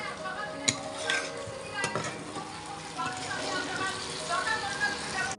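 Eggs stirred in a frying pan for an egg and potato curry, with a steady sizzle and a few sharp scraping clinks of a utensil against the pan.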